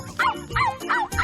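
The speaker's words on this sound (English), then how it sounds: "Are you ready to bark with Bingo?" Bingo, the cartoon puppy from Bluey, barks four times in an even rhythm, high-pitched yappy puppy barks that are close and loud with nothing else under them.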